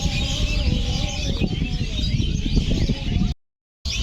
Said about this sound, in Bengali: সুন্দরবনের পাখির ডাকটা আমরা একটু শুনে আসি